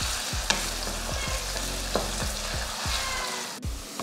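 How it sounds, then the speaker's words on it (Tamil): Chopped onion and curry leaves sautéing in hot oil, a loud continuous close sizzle with regular spatula strokes clicking against the pan every half second or so, no voices. "அடுத்து வெங்காயம், ஒரு பெரிய வெங்காயம் சின்னதாக வெட்டியிருக்கேன், அதையும் சேர்த்துக்கலாம். இதை நல்லா பொன்னிறமாக வதக்கிடலாம்."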